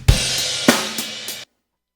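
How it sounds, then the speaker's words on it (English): A drum kit recording is played back through an aux track: a few loud, close hits land over about a second and a half with a washy cymbal tail, then the sound cuts off abruptly. "Here we've got the drums."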